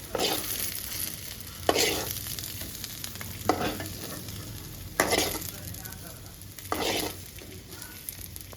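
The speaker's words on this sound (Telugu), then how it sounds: "ఉల్లిగడ్డ బాగా ఫ్రై అయింది పక్కకు తీసుకుంటున్నా" Onions frying in oil in a pan for brinjal curry, with a steady sizzle under repeated bursts of stirring and scraping at a slow, uneven rhythm, close and moderately loud.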